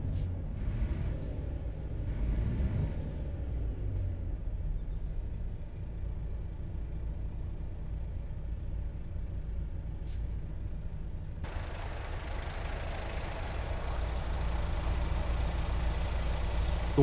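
A Volvo VNL 2025 truck engine in American Truck Simulator labours steadily up a hill, a low, continuous diesel rumble that grows brighter and louder near the end, with no voices.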